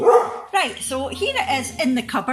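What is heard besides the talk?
dog barking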